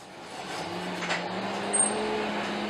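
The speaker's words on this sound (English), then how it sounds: "I've got a coal forge in the background running, and it's a hand crank forge" A hand-crank coal forge runs in the background as a steady broadband rushing roar with a low hum, even and continuous throughout.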